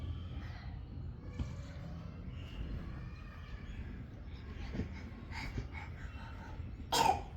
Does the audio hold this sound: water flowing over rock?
no